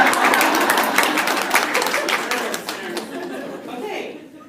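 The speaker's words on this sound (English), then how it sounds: "we'll clap every time you do it." An audience at an It Works Global meeting claps, a burst of mixed applause with chatter and light laughter that gradually thins out toward the end.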